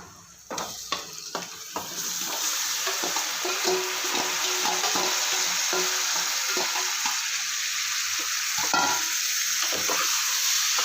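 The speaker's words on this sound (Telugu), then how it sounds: "ఇప్పుడు మ్యారినేట్ చేసి పెట్టుకున్న చికెన్ వేసుకుంటున్నాను." Marinated country (naatu kodi) chicken for a Telangana-style curry hits hot oil in a pan. A few sharp clatters come first, then a loud, steady hiss of frying that runs on close and unbroken, with no voices.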